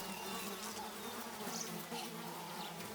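Dense swarm of flies and other insects buzzing over the last skin and flesh of an elephant carcass, a continuous close droning hum with individual insects passing near.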